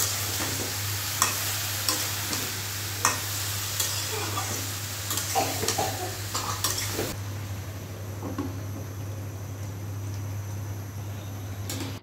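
Oil heats in a kadai for a dry potato and pointed gourd curry, crackling and sizzling up close. A utensil clinks against the pan, and the frying hiss drops quieter partway through.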